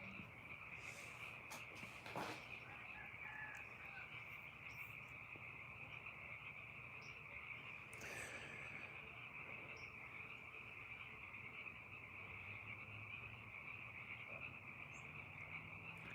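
A dense chorus of frogs croaks continuously at a moderate distance, a steady trilling drone with no talking.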